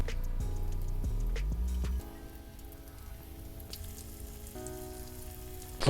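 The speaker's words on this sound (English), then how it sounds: "But I'm frying it in the pan." Shrimp frying in a pan, a steady crackling sizzle that runs throughout with a low hum, dropping slightly quieter partway through and continuing close and even.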